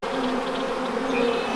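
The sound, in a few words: honey bees buzzing around a horizontal hive in winter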